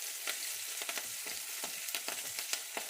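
Cinnamon and dried chillies sautéing in a pan, a soft continuous hiss punctuated by frequent light crackles and pops, fairly quiet and with no voices.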